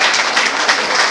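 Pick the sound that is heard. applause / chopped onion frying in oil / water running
applause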